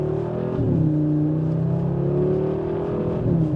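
A loud 2025 Audi RS3 engine revs steadily, the pitch dipping and climbing again as the throttle changes, a throaty, continuous roar close by.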